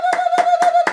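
Four sharp hand claps in an even rhythm, close and loud, over a steady background tone.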